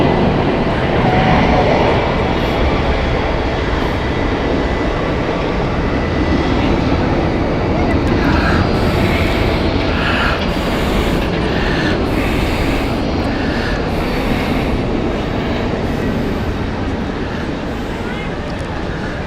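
An airliner taxis at Zurich Airport, a steady broadband engine roar holding evenly throughout, loud and close, with faint tonal whines layered above.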